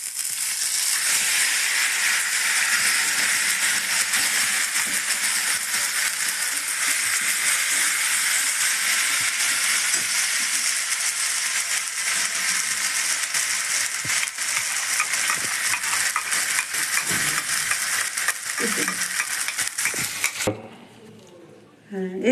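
Pea filling sizzles in hot oil in a wok on a lowered flame, a continuous close frying hiss broken by scraping stirs and faint clinks, with a soft voice near the end as the sizzle drops away.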